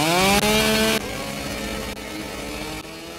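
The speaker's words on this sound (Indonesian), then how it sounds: "terdengar suara mesin gergaji yang dinyalakan oleh si penjagal" A chainsaw engine roars to life, loud and rising at first with a high revving whine, then settling into a steadier, lower idle drone with brief dips, heard alone.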